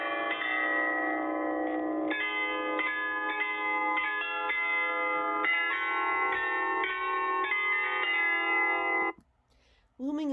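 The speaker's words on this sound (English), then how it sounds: "The tower's 35 bells chime 3 times a day." The 35 bells of a Salzburg bell tower chime a bright melodic tune, clear ringing notes struck one after another in a steady sequence until the chiming stops abruptly near the end, followed by a brief sound.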